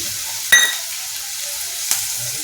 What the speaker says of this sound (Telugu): చూడండి ఇలా వేగింది కదా ఇప్పుడు ఒక టమాటా తీసుకున్నాం కదండి అది వేసేసుకుందాము